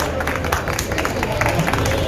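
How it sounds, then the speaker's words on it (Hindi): Dense, loud applause from an audience welcoming a guest at a Holi gathering in Delhi, continuous clapping with a faint murmur of crowd voices beneath. "जोरदार तालियां शंटी जी के लिए।"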